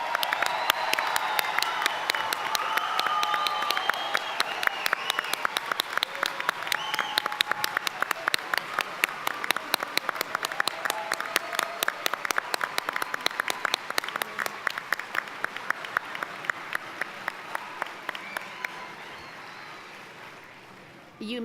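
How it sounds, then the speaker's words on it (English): An audience at a summer college commencement ceremony applauds, a sustained wash of many hands clapping in a large hall that continues for about twenty seconds and gradually thins and fades toward the end. "Let's give our candidates a round of applause."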